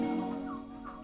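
On a turkey farm, a turkey gives a single loud, harmonic call lasting about a second, close and clear with no talking.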